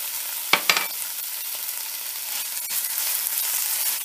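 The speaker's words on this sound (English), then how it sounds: "I'll fry this until the tomatoes turn pulpy" Tomatoes fry in masala in a pan with a continuous close sizzle, broken early by a couple of sharp clinks from stirring.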